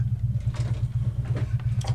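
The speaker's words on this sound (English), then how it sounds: "If you hear some rumbling, that's my cousin, neighbor next door, warming up his motorcycle." A neighbor's motorcycle engine warming up on a cold snowy morning, a low pulsing idle rumble in the distance, steady and faint with a few lighter outdoor noises over it.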